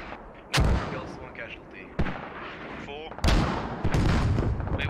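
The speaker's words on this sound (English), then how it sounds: "The mortar sort of walking a bit." Mortar rounds land in the military shooter game Squad, with several heavy booming blasts in irregular succession, loud and close, while players talk over radio chatter between the impacts.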